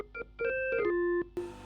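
A vintage Hammond organ with no Leslie speaker, set to its clarinet preset, plays a short run of sustained reedy notes that step down in pitch, clear and fairly close, with no talking.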